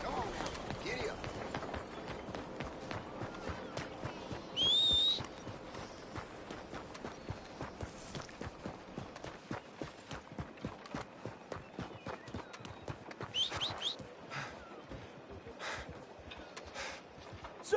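Horse hooves in Red Dead Redemption 2 pound in a steady rapid galloping rhythm throughout, close and clear, with a brief high whinny-like cry early on and scattered game sounds over the hoofbeats.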